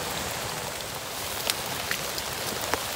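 Rain falls steadily during line fishing out in the wet, a dense close hiss of drops with a few sharper taps standing out near the end.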